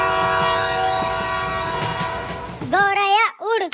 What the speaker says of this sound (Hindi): तो जल्दी ट्रेन की सीटी बजाओ